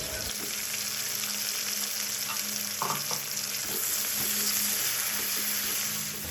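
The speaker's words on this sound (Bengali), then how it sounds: "কড়াইয়ে সর্ষের তেল দিয়ে তাতে শুকনো লঙ্কা, তেজপাতা, গোটা গরম মশলা এবং জিরে ফোড়ন দিয়ে পেঁয়াজ কুচি এবং কয়েক টুকরো রসুন" Chopped onion, garlic, dried red chilli, bay leaf, cumin and whole garam masala fry in mustard oil in a kadai for a dhaba-style mutton curry. A continuous close, crackling sizzle carries on throughout, broken by a few stirring clinks and scrapes.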